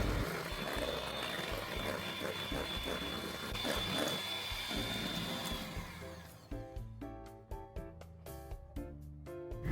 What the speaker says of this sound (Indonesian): Mix dengan hand mixer pakai kecepatan tinggi selama kurang lebih 3 menit sampai adonan mengembang pucat dan kental.